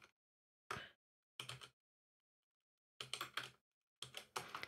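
Bursts of typing on a computer keyboard while setting up PHP on Debian, four short clusters of rapid key clicks separated by silent pauses, close and clear with no talking.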